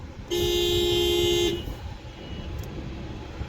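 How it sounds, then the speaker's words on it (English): A 2023 Honda Civic Hatchback EX-L horn blares in one steady honk lasting just over a second, then cuts off, leaving a low outdoor rumble. "let's honk the horn"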